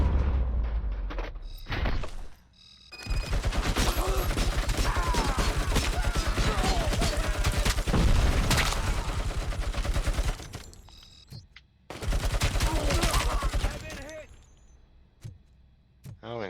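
Sustained bursts of rapid gunfire from RoboCop: Rogue City, loud and dense for several seconds, pausing, then erupting again in a second volley, with a few scattered thuds around the edges.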